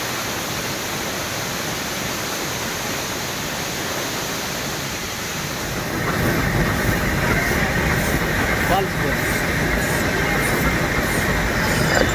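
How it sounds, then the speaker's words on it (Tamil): The Nilgiri Mountain Railway toy train at Ooty runs slowly, rumbling steadily with a broad roaring wash of noise that grows louder midway, with faint rhythmic clatter and no talking. "ட்ரெயின் வந்து ரொம்ப வேகமாகலாம் போகாதுங்க"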